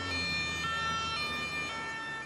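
Sirens of a convoy in Paris wail steadily and loudly throughout, a sustained high tone over low street rumble with no talk.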